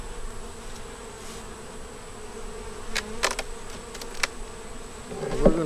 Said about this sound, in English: we have all the field bees in here now